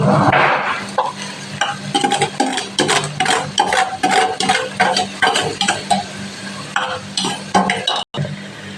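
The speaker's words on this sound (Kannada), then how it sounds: "ನೋಡಿ, ಇವಾಗ ನೂಡಲ್ಸ್ ಹಾಕ್ತಾ ಇದ್ದೀನಿ." Noodles tossed and stir-fried in a pan, loud continuous sizzling with rapid rhythmic scraping and clatter of a spatula against the pan, close up and energetic throughout, with a brief cut near the end.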